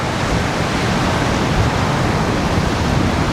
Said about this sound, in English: the wind isn't that insane as expected